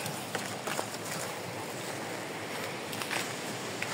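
Broadband wind rushing and buffeting a microphone on the summit of Mt. Mingan, Philippines, steady with a few sharper gusts, fairly faint overall.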